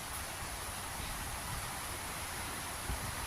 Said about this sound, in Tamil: அப்படியே தொடர்ச்சியாக மழை பெஞ்சு கொண்டே இருக்குது.